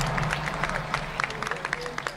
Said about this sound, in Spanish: Le damos un aplauso a los dos, ¿no?